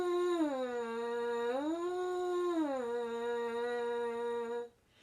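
A French horn mouthpiece buzzes alone with a clear, steady tone that glides down, swoops back up, then drops again before cutting off abruptly, close and moderately loud.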